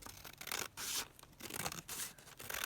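Paper being cut with scissors while assembling a handmade window-envelope book, a close, crisp run of snipping and slicing strokes in uneven bursts with brief pauses between, no voices.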